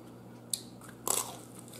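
Crunchy fried sweet and sour chicken from a Chinese lunch being bitten and chewed close up, a sharp initial crunch followed by a short cluster of crisp crunching, quiet overall with no talking.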